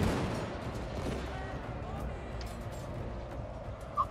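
Massed musket volleys from troops in the strategy game Shogun 2 Total War, a dense, continuous rumble of distant battle fire with a crackling texture, steady throughout with a brief sharper pop near the end.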